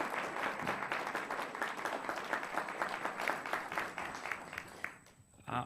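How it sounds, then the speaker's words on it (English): A city council meeting audience claps in a steady round of applause for staff, moderately close, tapering off near the end with a faint constant tone in the room. "Will you give them a round of applause for all their efforts?"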